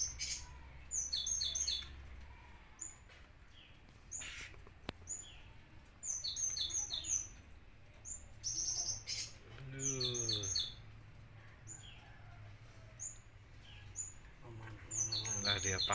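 A cinereous tit calls in front of a house with repeated bright, high chirps in short bursts against a quiet outdoor background, and a voice briefly cuts in partway through.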